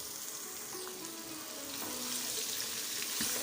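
Raw mango pieces fry with spices in a pan, giving a close, continuous sizzle and crackle that grows a little louder as they go in, with faint stirring and no voices.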